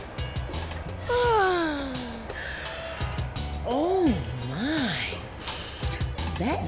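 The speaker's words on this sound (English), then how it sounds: "yawn is contagious." An animated locomotive character from a children's train cartoon lets out a long, drawn-out voiced yawn that slides downward in pitch, followed by a few more rising and falling sleepy vocal sounds, all fairly close and clear.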